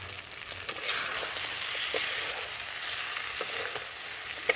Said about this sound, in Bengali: ছাদে তো মাংস কষানো চলছে